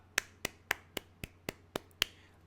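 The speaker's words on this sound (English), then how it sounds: "This guy, he gets the golf clap." A slow, polite golf clap: eight sharp single claps spaced evenly about a quarter second apart, moderately quiet and close, with no talking.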